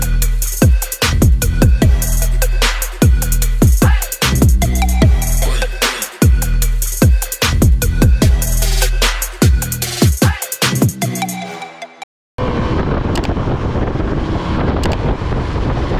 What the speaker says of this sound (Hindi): finally we are riding V-Strom SX.